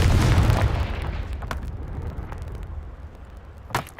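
A Confringo spell explodes in the video game Hogwarts Legacy with a loud, deep boom at the start, then a rumbling roar that fades over several seconds, with a sharp crack near the end.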